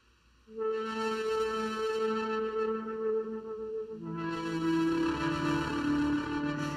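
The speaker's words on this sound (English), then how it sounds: "It kind of simulates a cassette effect." A warped, lo-fi synth tone with cassette-tape-style wobbling distortion and echoing reverb, sustained chords shifting midway and growing brighter and denser.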